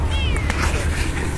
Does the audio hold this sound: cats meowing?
yes